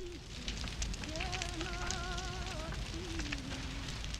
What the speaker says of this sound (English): or the crackling of fire